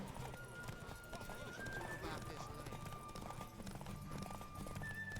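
Horse Roach galloping in The Witcher 3, a rapid rhythmic hoof clatter blended with game music and effects, with someone speaking over it.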